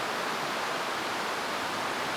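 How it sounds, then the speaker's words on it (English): Hot water streams steadily into an AeroPress coffee maker during brewing, a continuous soft hiss of pouring liquid held at an even level for a couple of seconds with no talking. "we know there's 200 grams of water in there, so just pour it all in"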